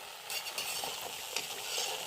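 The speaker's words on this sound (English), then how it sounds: "Now we have to fry all the pani puri with the same process" Pani puri made from suji fry in hot oil with a steady crackling hiss, sharpened by a few brief bursts as the puris are moved, close and moderately loud, with no voices.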